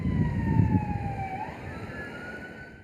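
An ambulance siren wails in gliding, falling and rising tones during a military emergency training drill that simulates an explosion with injured victims, sounding moderately close over low rumbling vehicle and crowd noise.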